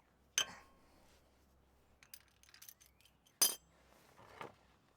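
A 3/8 breaker bar working on the tight differential drain plug of a Jeep Wrangler JK, heard as two sharp, near metallic clinks a few seconds apart with light tool rattles and taps between them in a quiet space.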